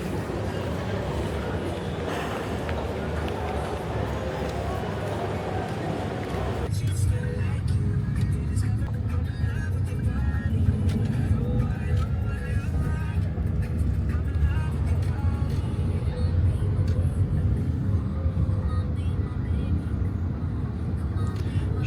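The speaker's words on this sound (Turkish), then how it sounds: "Şimdi bir Gojek'li arabaya bindim." Ride inside a Gojek car in Bali, with a steady low engine and road rumble that grows louder partway through, under intermittent talk.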